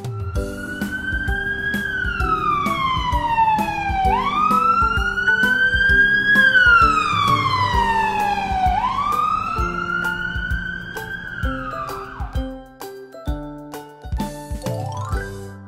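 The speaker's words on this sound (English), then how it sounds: "Ambulance." An ambulance siren wails loudly, its pitch sweeping slowly up and down several times, then breaks off into short, sharp electronic tones.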